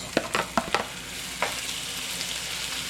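Onion and tomato sautéing in a pan, a soft steady sizzle under a few quick, close stirring clicks and scrapes early on, then a gentler fry.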